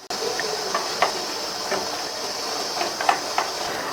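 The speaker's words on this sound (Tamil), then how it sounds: "இட்லி பாத்திரத்துல தண்ணி விட்டு நல்லா கொதிச்சிட்டு இருக்கு" Water boiling in an idli pot fitted with a steamer to cook rice-flour puttu in tumblers: a steady hiss of steam with faint scattered ticks and small bubbling pops, close and continuous.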